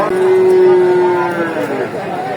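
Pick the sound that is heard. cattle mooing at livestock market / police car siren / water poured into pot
cattle mooing at livestock market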